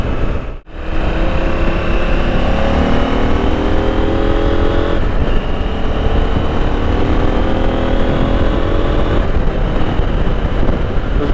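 A KTM 890 Adventure R motorcycle engine of 100-plus horsepower runs loud and close, droning and rising steadily in pitch as it pulls through the gears for about eleven seconds, with no talk.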